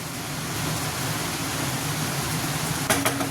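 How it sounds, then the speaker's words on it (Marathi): Heavy rain pours outside during monsoon cooking, a steady dense hiss that holds at an even loudness throughout, with a couple of brief knocks near the end. "अगदी जोरात पाऊस पडतोय मस्तपैकी"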